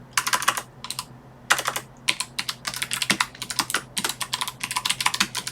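Quick bursts of keystrokes on a computer keyboard, clustered clicks with short pauses between words, close and clear with no talking.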